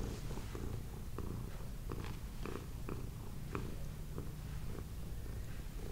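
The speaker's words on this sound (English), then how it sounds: "Can you guys hear her purring?" A cat purrs steadily and close up throughout, a low continuous rumble during a full moon cat yoga session, with small soft movement noises scattered over it.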